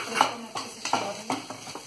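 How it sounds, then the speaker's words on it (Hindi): A spoon stirs spices in a pan for mutter paneer, with four or five scraping strokes against the metal at an even pace, close and moderately quiet. "इसको अच्छे से चला देंगे"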